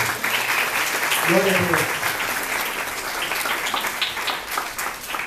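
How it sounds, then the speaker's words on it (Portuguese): Loud, sustained applause from a crowd at an engagement celebration fills the whole stretch, with a voice briefly speaking over it early on. "Vamos aplaudir os nossos pastores."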